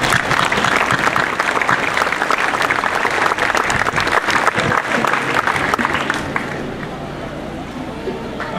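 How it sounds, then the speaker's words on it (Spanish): Loud, dense audience applause for project collaborators rolls on for about six seconds, then thins and fades into a quieter room murmur with faint voices. "regalémosles un fuerte aplauso"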